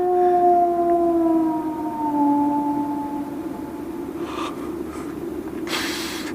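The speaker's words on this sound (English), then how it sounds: "They say it's the cry of the Hound of the Baskervilles." A drama sound effect of the howl of the Hound of the Baskervilles on the moor: long, eerie, siren-like wailing tones slide slowly downward over a steady low rumble, loud and sustained throughout, with no voices.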